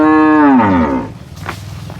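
A dairy cow at a cattle market in Dinajpur gives one loud, close moo that slides downward in pitch over about a second, then fades into low market background noise.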